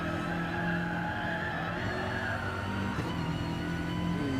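A race car in a rally-style racing video game on the Alsace Super Enduro stage, with a pneumatic gearbox, slides with sustained tire skid over a steady engine drone, loud and continuous without talk.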